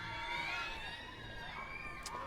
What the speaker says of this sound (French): ça crie, vous entendez crier, le bateau pirate